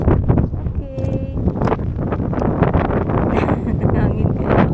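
Strong, gusty typhoon wind roars across the microphone nonstop in Manila, with faint voices and water or boat noise partly buried underneath.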